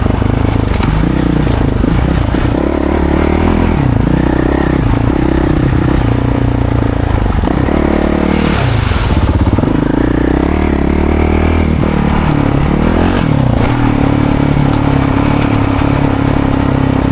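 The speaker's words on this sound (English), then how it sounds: "Engine brake is so nice." A dirtbike rolls downhill on Chiloé Island with the engine braking, a steady low mechanical drone with rattling clatter and small shifts in pitch, loud and close throughout with no talking.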